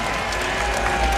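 A large crowd at a boxing match applauds steadily, a dense wash of clapping with faint cheering mixed in.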